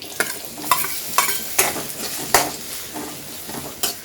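Small onions fry in a pan with a low sizzle, punctuated by regular sharp clinks and scrapes of a spoon stirring against the pan, close and unaccompanied by voices.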